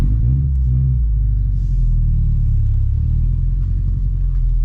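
A car engine fitted with a street bike exhaust revs hard, a loud, deep, close rumble that rises and holds through the clip with no talking.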